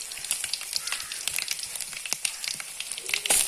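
Garlic frying in hot oil for a Tulu-style elephant foot yam sukka, a close continuous sizzle with sharp crackles and pops scattered throughout.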